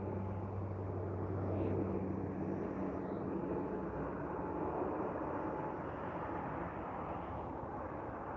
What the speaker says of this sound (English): Departing flight is on 26 left is Air Canada Express out to Victoria, flight AC 8165.